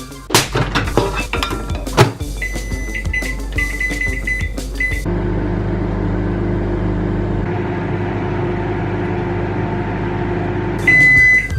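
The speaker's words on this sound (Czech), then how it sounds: "A teď hurá do mikrovlnky." A microwave oven heating a slice of Japanese-style pizza: clattering and a door thud and beep first, then a steady low mains hum drones for several seconds before the closing beep.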